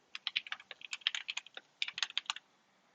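Fast, uneven clicking of keys on a computer keyboard, close and fairly quiet, in two quick bursts with a brief pause between them and no talking.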